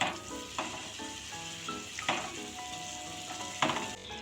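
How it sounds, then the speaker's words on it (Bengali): Pineapple chutney sizzling in a pan over a low-to-medium gas flame, a steady close frying hiss broken by periodic stirring scrapes and light clinks of utensil on pan. "এখন গ্যাসটা লো টু মিডিয়ামে রেখে আমি চাটনিটা তৈরি করে নেব।"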